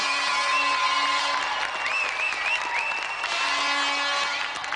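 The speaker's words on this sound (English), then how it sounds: "So let's have another round of applause for Andy Thompson and our special guest, Ric" Studio audience applause on a TV game show set, steady and fairly loud across the whole stretch, with some whistling or electronic tones running through it and no talk over it.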